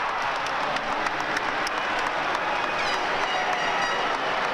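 Hartford Whalers hockey crowd applauding steadily after Bobby Hull scores, a dense, continuous wash of clapping from a large arena audience with no talk.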